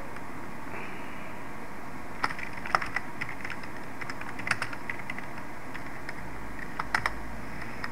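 Java code being typed on a computer keyboard: steady, fairly quiet key clicks with scattered sharper taps over a constant low hum, no talking.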